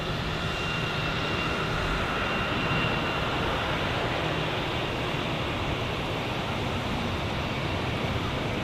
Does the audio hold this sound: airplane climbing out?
yes